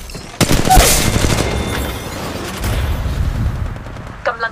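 Loud, close gunfire in the battle royale game Apex Legends Mobile: a sharp opening burst followed by continuous rattling shots and booming impacts, tapering off near the end.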